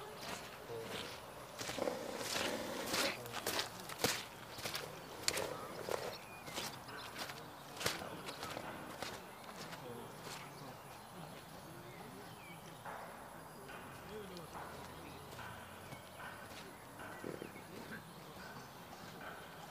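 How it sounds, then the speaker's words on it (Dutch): Horse walking on a hard surface during a stud location inspection, hooves clip-clopping in a steady rhythm that is loud at first and fades as it moves away, with faint voices in the background. "Stappen Tom, hoor"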